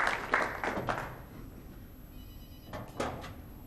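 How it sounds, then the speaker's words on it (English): A mobile phone rings out somewhere in the crowd during a pool match, a few short repeated bursts of ringtone against quiet hall ambience, moderately distant. "Now you hear the referee, Steve Brooker, telling someone in the crowd to turn their mobile phone off."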